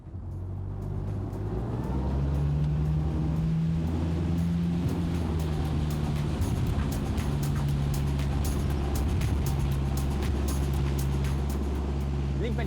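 Cranchi Endurance 33 motorboat accelerating on open water, a loud, steady low engine drone building after a brief quieter start, with water rush and wind noise over it.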